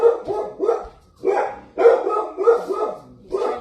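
A dog barks repeatedly at a UPS delivery man, loud, close yips and barks in uneven bursts with short pauses between.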